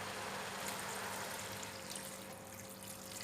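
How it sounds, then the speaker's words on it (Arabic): Water pours into a pot of fried green beans for a Lebanese stew, a steady faint rushing stream with a low hum underneath and no speech. "رح ضيف المي"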